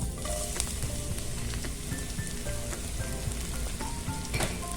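Garlic sizzles in olive oil in a pan, a soft, continuous crackle and hiss with scattered small pops, steady throughout and fairly quiet.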